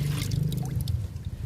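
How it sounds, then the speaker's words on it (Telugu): Liquid fertilizer is poured onto a banana plant, a close, continuous gurgling splash and trickle lasting about a second and a half. "అరటి మొక్కకు లిక్విడ్ ఇస్తున్నాను"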